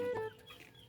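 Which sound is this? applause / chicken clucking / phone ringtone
chicken clucking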